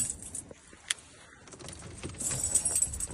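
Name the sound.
keys jangling while putting the key into the car ignition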